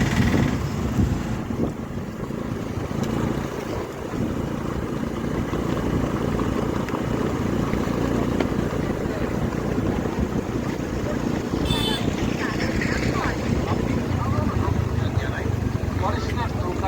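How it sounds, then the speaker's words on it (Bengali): A boat ride on the Mukutmanipur reservoir in Bankura, with a steady, loud wash of wind buffeting and water noise running unbroken throughout. "আসুন নৌকা বিহার করুন এবং আনন্দ উপলব্ধি করুন।"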